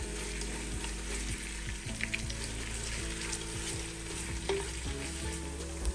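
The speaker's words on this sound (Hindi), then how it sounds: "अब इसमें ऐड करेंगे 400 ग्राम प्याज। इसको हल्का सा गुलाबी कर लेंगे।" Steady, dense sizzling of 400 grams of onions frying in hot oil until lightly pink for a beef trotters dish, loud and close, with occasional stirring scrapes and crackles throughout, no talking.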